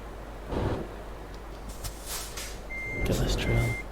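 Repeating truck reversing beeps from a rig in the Euro Truck Simulator 2 game sound as steady high electronic tones over a low engine hum and faint clicks, with a soft voice speaking briefly.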